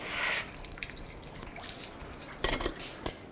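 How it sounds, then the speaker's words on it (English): Coolant drains from the radiator of a 2010-2017 Chevrolet Equinox, heard as faint trickling and dripping liquid with a few brighter splashes partway through, close by and with no talk. "Let it drain out."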